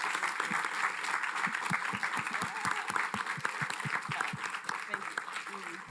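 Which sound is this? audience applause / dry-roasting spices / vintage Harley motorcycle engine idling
audience applause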